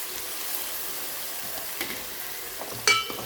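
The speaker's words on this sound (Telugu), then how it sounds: "టమాటాలు వేసి బాగా కలపాలి." Tomatoes stirred into a frying pan for fish curry give a steady, soft sizzle with scattered scrapes and a sharper clatter near the end.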